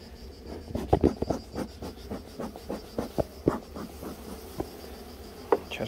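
Honey bees at an opened, queenless hive give a faint, steady buzz, broken by sharp scraping and tapping clicks as the frames are handled nearby.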